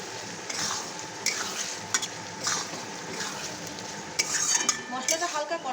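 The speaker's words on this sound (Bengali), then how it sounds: "এবার ভালো করে মশলাটা মেখে দেবো এর মধ্যে।" Chilli chicken masala is stirred in a pan with chilli, soy and tomato sauces: soft, repeated scraping and stirring strokes over a faint sizzle, with occasional clinks of the utensil against the pan, close and steady.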